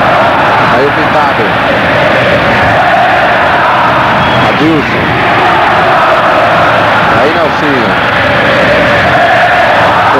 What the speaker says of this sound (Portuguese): torcida do São Paulo faz a festa no Morumbi